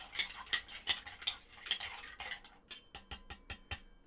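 A bar spoon stirring a Fairy Nectar cocktail, rapid rhythmic clinks and rattles of ice against the glass, then a quicker run of brighter taps, close and without talk.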